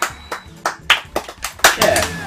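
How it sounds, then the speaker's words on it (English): Hands clap in a quick, uneven burst of about ten sharp, close claps, with voices mixed in. "I was clapping! I was clapping for you!"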